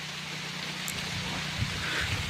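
Steady heavy rain hisses across the whole clip in a dense forest, a dense broadband wash with a low rumble underneath and no voices.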